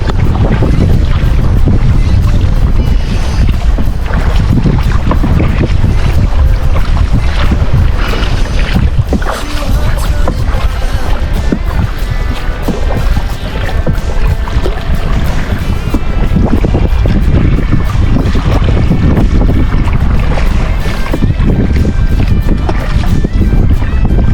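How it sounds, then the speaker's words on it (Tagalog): Strong wind roars constantly into the microphone over the wash and slap of waves against a small fishing boat out in the middle of the sea after a typhoon, the wind strengthening and waves growing, loud and unbroken throughout. "Lumalakas na yung hangin. Pag dito na banda sa gitna, malakas na yung hangin. At lumalaki na rin yung alon."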